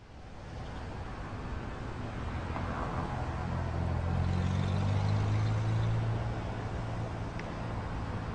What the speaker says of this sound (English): here's some ambience of a city, including traffic sounds